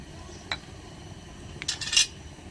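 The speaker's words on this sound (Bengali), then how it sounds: "তেল দিয়ে একটু নেড়ে দিলাম" A metal spatula clinks once against a small pan of cooking oil, then scrapes briefly as the oil is stirred before eggplant goes in for frying, quiet and close with no talk.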